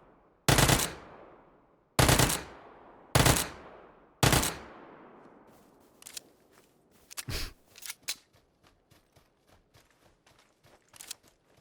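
Gunfire in the video game PUBG: four loud, sharp shots fire at roughly even intervals, followed by a scattering of quieter, rapid distant shots and faint clicks.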